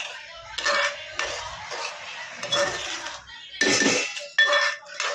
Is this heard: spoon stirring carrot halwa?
yes